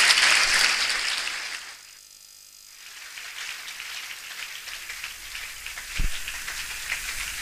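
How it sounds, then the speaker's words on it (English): Audience applause at a Springboard 2019 event in Cape Coast, a dense crackling clap that is loud at first, drops away briefly, then swells again and continues steadily, with no talking over it. "I think you can give her a better applause."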